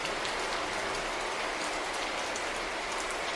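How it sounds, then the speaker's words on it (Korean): Steady rain falls on a surface as a constant, even hiss of many drops, with nothing else heard. "비가 오던 어느 날"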